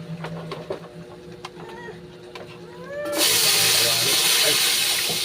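Garlic for ginisang sayote with whole chicken hits hot oil in a pan: after a few quiet seconds of kitchen clatter and some talking, a loud, steady sizzling hiss bursts up and holds close by.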